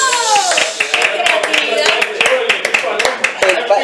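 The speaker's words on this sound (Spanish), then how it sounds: "un aplauso" Several people clap in a podcast studio, a steady round of close hand claps that stays loud throughout, with voices and laughter mixed in over the clapping.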